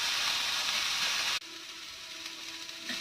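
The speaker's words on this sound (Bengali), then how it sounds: "এর মধ্যে একটু লবণ দিয়ে দিলাম যাতে পেঁয়াজটা আদাটি ভাজা হয়ে যায়।" Onion and ginger fry with a pinch of salt for pulao, making a soft, hissy sizzle. It cuts out sharply partway through and comes back quieter, with a faint tone under it. No one talks.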